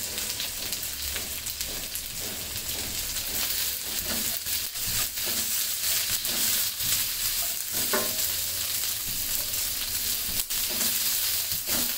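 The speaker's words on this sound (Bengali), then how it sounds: "এখন ক্যাপসিকামটার সাথে কিছুক্ষণ ভেজে নিতে হবে।" Half a large capsicum frying with chicken and spices in oil in a pan, a continuous crackling sizzle with repeated stirring scrapes and clicks throughout.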